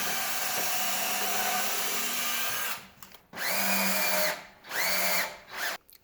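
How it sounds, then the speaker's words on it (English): A power drill whirs steadily, then spins up in several short bursts with brief pauses between them, close by and loud, drilling a pilot hole while building a garage workbench. "in that location I'm just going to drill a pilot hole and put one screw in"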